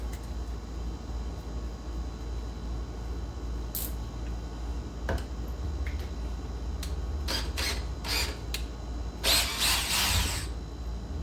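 A cordless drill runs in short bursts while drilling a hole, the whine rising in brief pulses toward the end over a steady background hum, with no talking.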